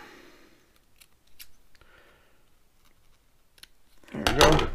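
Scissors cutting a feather to length for wooden arrow fletching: faint snips, then one louder close cut near the end.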